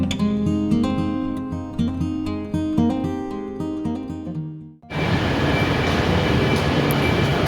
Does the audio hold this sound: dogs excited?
no